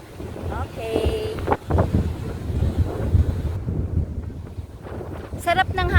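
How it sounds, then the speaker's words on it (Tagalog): Wind beside the sea at a wind farm buffets the microphone in strong, uneven gusts, with a faint tonal hum and brief whistling tones in the background. "Sarap ng hangin dito guys."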